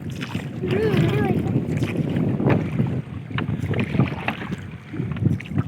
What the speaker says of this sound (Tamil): அந்த போட்டு போகிறது இங்கே தெரியுது பாரு, அந்த அலையா மோட்டர் போட்டோட இது